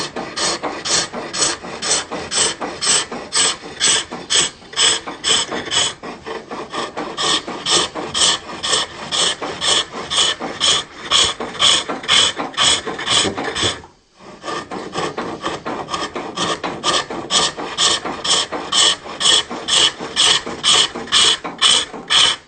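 Repeated rhythmic scraping cuts as a hook tool hollows wood on a foot-powered pole lathe, each pass a rasping stroke in steady pulses, close and loud, with one brief pause midway.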